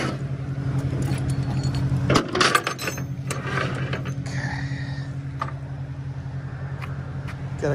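Keys jangle in a short metallic burst close by at a towing call, over the steady idle hum of a running tow truck beside a low Nissan with front and back damage.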